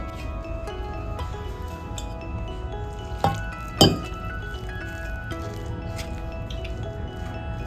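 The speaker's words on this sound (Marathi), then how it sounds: "थोडं थोडं पाणी घालून आपण मिश्रण एकत्र करून घ्यायचं" A spoon stirs potato and vegetable breakfast batter as water is added bit by bit, making soft squishy mixing and light clinks against the bowl, with two sharper clinks midway.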